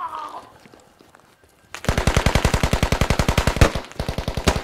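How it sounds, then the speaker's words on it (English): Automatic gunfire in the tactical shooter game Squad breaks out after a quiet moment and rattles on in rapid, evenly spaced shots, with a brief stutter in the middle before the burst resumes. "I have no idea where they keep on shooting from"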